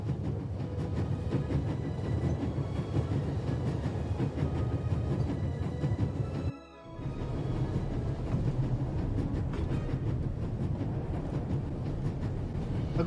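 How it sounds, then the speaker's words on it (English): A train travelling on rails in the adventure game The Raven, with a continuous low rumbling roll of wheels and carriage noise that briefly cuts out midway before resuming. "There's nothing quite like traveling on a train."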